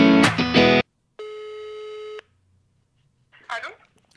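Telephone call sounds before a call is answered: a brief burst of electronic noise, then a steady ringback tone lasting about a second, silence, and a short faint voice-like burst at the end.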